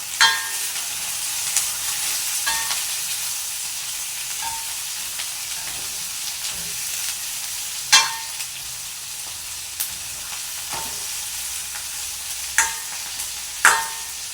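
Mustard seeds and spices crackling in hot oil in a pan for a prawn and drumstick sambar, a steady broadband sizzle with sharp pops at scattered moments, close and fairly loud, with no voices over it.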